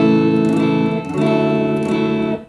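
Sustained electric guitar chords through an Ammoon chorus pedal with depth and rate maxed, giving a heavily warbling, detuned, almost broken tone. The chords are loud and close, change about halfway, and have no talk over them.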